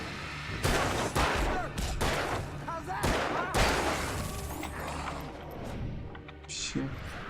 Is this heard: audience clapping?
no